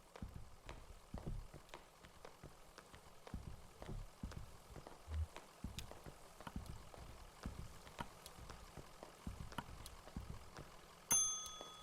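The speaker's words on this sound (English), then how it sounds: "let's ring the bell and see what happens" A bell rings near the end amid soft, scattered ambient ticks and patter in the video game Kentucky Route Zero; the clear metallic ding stands out alone, with no talking.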